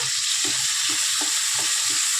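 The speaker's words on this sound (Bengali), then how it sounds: "দিয়ে দেবো আদা রসুন বাটা" Ginger-garlic paste hitting softened fried tomatoes in a hot pan, a loud continuous sizzle with rhythmic scraping stirs repeating about every half second.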